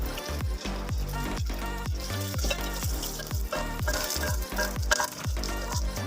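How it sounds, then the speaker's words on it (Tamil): Around thirty garlic cloves sauté in oil for a Tamil kara kuzhambu, a continuous crackling sizzle set under rhythmic background music that beats throughout. "நல்லா வதக்கிட்டே இருக்கணும் கரிஞ்சிடாமல் கோல்டன் ப்ரௌன் ஆகிட்டு பூண்டு சீக்கிரமாக வதங்கிடும்"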